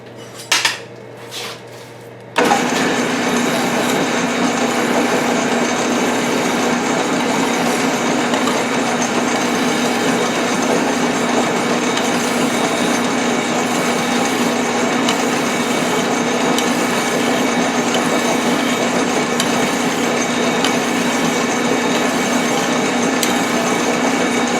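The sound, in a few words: polishing a metal part for a hydraulic press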